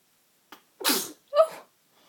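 A single close sneeze, a short intake followed by a sharp burst, then a brief trailing vocal sound in an otherwise quiet room.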